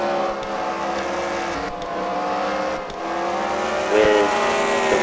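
Race cars roar around a track during a fight-night event at The Freedom Factory, with a steady, fairly loud engine drone that swells and fades as the cars pass.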